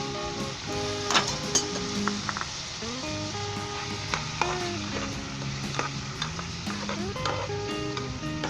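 Chicken with red chilli, garam masala, salt and turmeric frying in a pan with ginger and garlic, a steady close sizzle with stirring clicks and scrapes, background music tones running underneath.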